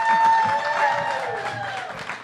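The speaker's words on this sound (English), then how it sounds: "let's give her a big round of applause" Applause from an event audience at a Best in Show gala, a broad crowd clapping and cheering that fades slightly, with tonal sounds, likely music, carrying above it.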